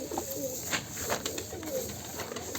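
Pigeons cooing close by while being fed a mixed wheat and rice grain feed, soft repeated throaty coos over a steady background hiss.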